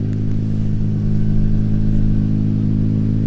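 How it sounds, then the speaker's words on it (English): A 4th generation Nissan Maxima engine idles steadily nearby, a low, even rumble that holds without revving for about three seconds. "I kind of like the sound of the car."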